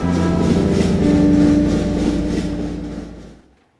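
A train rumbles past in the indie puzzle-platformer game Monochroma, a loud, steady low roar with rattling texture that swells and then fades out over a few seconds, with no talk over it.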